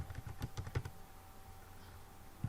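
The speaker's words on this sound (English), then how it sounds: "then type your email ID again, the same one" Quick typing on a computer keyboard as an email ID is entered, a rapid burst of soft key clicks followed by a pause and one last keystroke, close and quiet over faint room hum.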